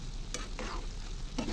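A cabbage stir-fry sizzles close up in a pan, with a few quick spatula scrapes over the steady frying hiss during a brief moment.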